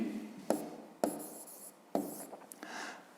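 Hand writing numbers during a fifth-grade math lesson, a few quick scratchy pen or chalk strokes with short sharp taps between them, close and quiet, no voice.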